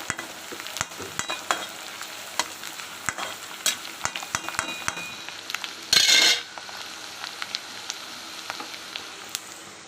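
Thinly sliced ginger frying in oil for a spicy fish curry, a soft continuous sizzle broken by frequent sharp clicks of a spoon stirring against the pan, with one louder scrape near the middle.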